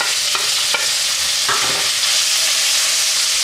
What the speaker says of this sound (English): Just going to get my bacon and just chuck it in like that.